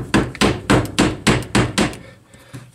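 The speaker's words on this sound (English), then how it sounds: "Tapping on it." Seven sharp, evenly spaced metallic taps strike a part of a 1964 Evinrude outboard motor during points cleanup and carburetor removal, close and loud, tapering off at the end.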